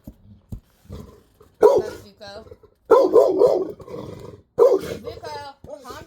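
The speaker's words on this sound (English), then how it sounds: "My dog might be getting ready to bark his ass off." A big dog barks in loud, close bursts, three rough volleys spaced a second or so apart, while someone talks over and between them.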